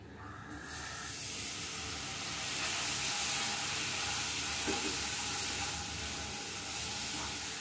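Milk poured gradually into a butter and flour mixture for white sauce, sizzling loudly in the pan with a sharp onset, then a steady hissing fry and light stirring.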